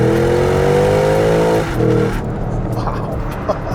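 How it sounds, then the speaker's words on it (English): Porsche Cayenne GTS Coupe engine revving hard as it gears down, a loud rising roar that drops abruptly midway, followed by lower rumbling and a faint voice. "And when you just gear down, it's so addictive."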